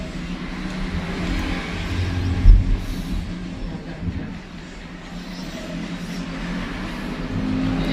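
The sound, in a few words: people speeding vehicles outside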